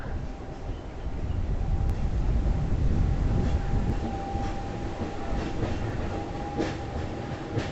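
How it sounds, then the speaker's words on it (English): The Peak Tram funicular on Hong Kong's Victoria Peak rumbles steadily past with a continuous rolling roar and faint rail clatter, loud and close throughout, with no pause. "That's the Peak tram passing by on its way up to the tower."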